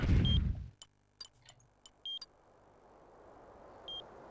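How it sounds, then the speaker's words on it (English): Video game beeps signal a nearby hidden item in a Sega Saturn game, Pharaoh Prime: short, clear, even-pitched tones sound three times at spaced intervals, mixed with scattered clicks and a soft background hum. "You can hear that beeping. That's that hidden item we want to find."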